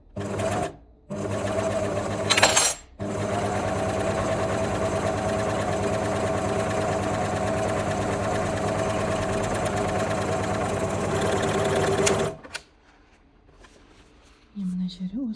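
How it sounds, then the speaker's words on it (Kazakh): An overlock sewing machine stitches the fabric of wide-leg palazzo trousers. It runs with a loud, steady, close whir for about twelve seconds, with two brief pauses early on, then stops. Quieter sounds follow. "Осылай жаймен отырып оверлоктап шығайық, содан кейін замогын қосамыз."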